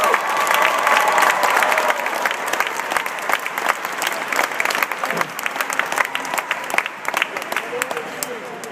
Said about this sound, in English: So I'd like to have everybody give them an applause for such a great job.